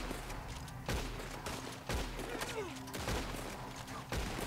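Gunfire from the Western video game Red Dead Redemption 2, with several sharp shots spaced about a second apart over background noise and voices.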